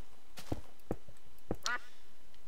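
A human voice imitates a duck's quack in a Minecraft video, with a few short nasal honks and a final rising, wavering quack, fairly close and alone with no other talk.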